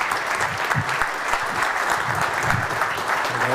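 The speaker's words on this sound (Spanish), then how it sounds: "los vamos a recibir con un fuerte aplauso" A crowd applauds together to welcome speakers onto the stage, a dense, even burst of clapping close by that lasts the whole stretch.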